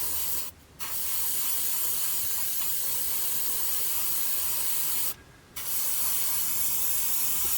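Black paint sprayed from an airbrush onto the plastic canopy of a 1/48 scale Arma Hurricane model makes a loud, close, continuous hiss. It cuts off briefly twice, then resumes, and there is no speech.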